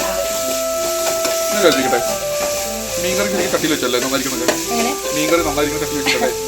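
Onions with salt frying in a pan as the base for a fish curry, a steady bright sizzle with stirring scrapes. Someone talks over it throughout.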